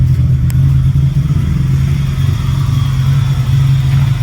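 A cammed AU Tickford six-cylinder idles loud and close in a 1993 Ford NC Fairlane, with a deep, lumpy, steadily loping exhaust note running throughout.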